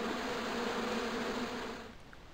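A hornet swarm buzzing in the Broken Sword 2 video game, a dense, steady droning hum that holds for about two seconds and then fades away.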